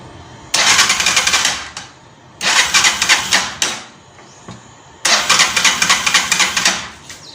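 An Alpha motorcycle engine cranks in three loud, pulsing bursts, each lasting about a second and a half, with short pauses between and no sign of catching.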